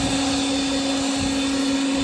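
A Litheli U20 cordless leaf blower runs steadily with a loud, close whine and rushing air, blowing fertilizer off a surface; the tone holds constant throughout with no talking.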